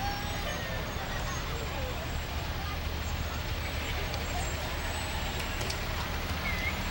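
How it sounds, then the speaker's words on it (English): A heavy rescue fire truck from Sharon Township rumbles past in a parade, a low steady engine drone with street crowd noise around it and voices talking over it. "This is another heavy rescue from Sharon Township."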